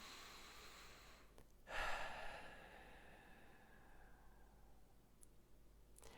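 Demonstration of a breathing technique: faint steady airflow, then one sharp, forceful inhalation like a gasp or snort, followed by a long, quiet exhale that fades, with a couple of tiny clicks near the end and no talking.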